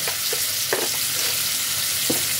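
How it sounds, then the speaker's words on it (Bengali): Chopped onion with a pinch of salt frying in oil for a paneer kali mirch white gravy, giving a steady broad sizzle with a few soft stirring clinks, even and close throughout. "এবার পেঁয়াজটাকে তেলের মধ্যে ভালোভাবে ভেজে নিতে হবে।"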